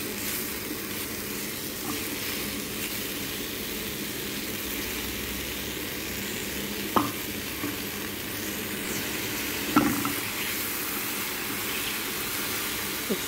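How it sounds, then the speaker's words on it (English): Beef frying in a pan for beef bourguignon, a steady broadband sizzle that holds throughout with a couple of faint clinks, no talking. "Continue frying until it becomes light brown."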